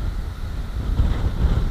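Strong wind gusting at the Anapa coast in April, a constant low roar buffeting the microphone that grows a little stronger toward the end, with no one talking.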